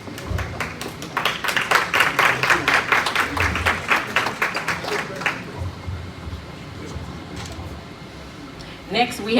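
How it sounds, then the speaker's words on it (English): Audience applause at a community anniversary celebration, a burst of clapping lasting about five seconds, then tapering off into room noise with a murmur of talk. "Give them a round of applause, y'all."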